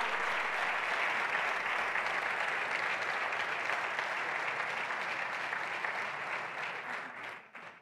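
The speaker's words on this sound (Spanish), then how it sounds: "Un fuerte aplauso" Steady, sustained applause from a large audience at a basketball Hall of Fame ceremony, an even wash of clapping that holds level and then tapers off at the end.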